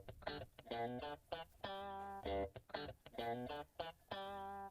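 Distorted guitar sample in an Afrobeats beat remake, playing short harmonic stabs and sustained notes in a choppy rhythmic pattern, clear and alone.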